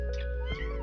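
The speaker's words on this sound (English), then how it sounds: "Excuse my cat. She is crying because of the fact that I'm talking" A pet cat lets out a short, plaintive meow, then a second brief cry, heard nearby indoors over a steady low electrical hum.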